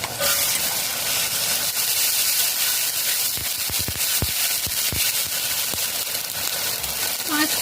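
Onions sizzling and frying in a pan as onion paste is stirred in, a steady close hiss with scattered clinks and scrapes of stirring, heard under a speaking voice.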